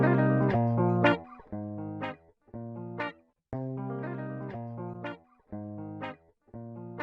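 Electric guitar through an Eventide Anthology XII Guitar Offstage Left preset, playing plucked chords and notes in short phrases with gaps, with a spacious, distant tone and no talking.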